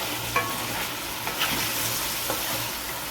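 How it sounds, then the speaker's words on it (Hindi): A tablespoon each of garlic and ginger fry in a pan for chicken jalfrezi, a close, steady sizzle with light stirring clicks and scrapes throughout and no talking. "अब हम इसमें 1 टेबल स्पून जो है वो गार्लिक डालेंगे और 1 टेबल स्पून जिंजर, और इनको अच्छी तरह फ्राई करेंगे।"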